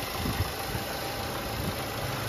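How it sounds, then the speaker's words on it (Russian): A freshly rebuilt engine in a Nissan Primera P12 idles with the hood open, giving a steady, even low rumble that holds constant throughout, with no voices. "Давайте сразу заглянем под капот, послушаем на работу двигателя."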